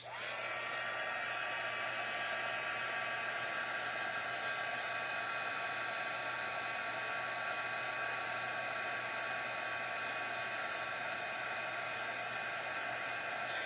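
A heat gun blows over a card front in a steady, close, continuous whirring roar that stays even from start to end.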